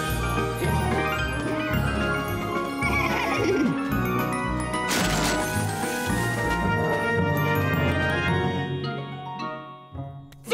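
Cartoon sky horses neigh and whinny in an animated children's bedtime story, the calls loud and close over busy music with a crash-like swell partway through.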